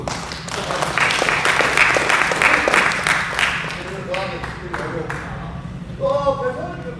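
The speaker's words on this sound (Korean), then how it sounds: "박수." Applause from a book-concert audience in a conference hall, a burst of clapping that rings for a few seconds before fading, with a voice talking over the tail.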